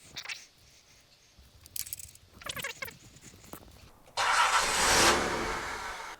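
Nissan 300ZX Z31 engine cranking, with quiet mechanical clicks and shuffling first, then a loud, steady, rough cranking noise that starts abruptly and carries on close by to the end.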